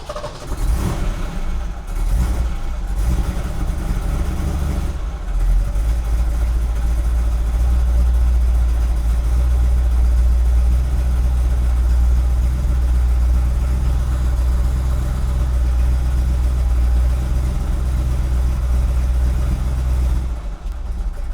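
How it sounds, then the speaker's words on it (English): A 1969 Ford Mustang Boss 429 V8 cranks briefly in short bursts, catches, then settles into a loud, deep, steady idle with a rumbling low throb that holds close and continuous. "now that we've cranked it, we'll fire it up"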